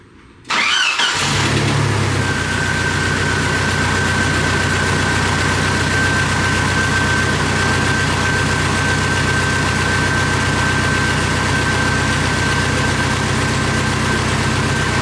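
A car engine fitted with new iridium spark plugs cranks briefly and catches, then settles into a smooth, steady idle with a constant hum and a faint high whine, close and loud with no talk.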